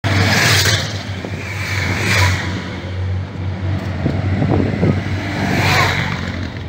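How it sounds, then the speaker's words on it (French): Cycling team directors' cars pass along the roadside during a stage of the Boucles de la Mayenne race, loud engine whooshes sweeping by near the listener, one after another, over a constant low hum. "Ça c'est normal, c'est les voitures des directeurs sportifs."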